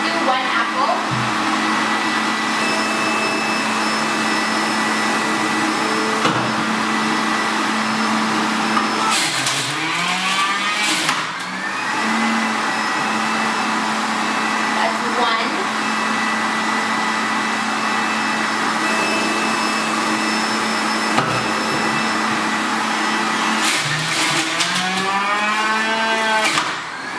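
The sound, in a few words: Breville Juice Fountain Cold XL juicer juicing an apple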